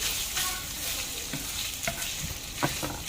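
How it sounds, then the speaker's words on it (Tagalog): Minced pork is stirred around a hot frying pan for an eggplant dish, with a steady close sizzle and scraping spatula strokes and clicks throughout. "hahaluin natin para paghiwa-hiwalayin natin at hindi maglalamp ang ating minced pork"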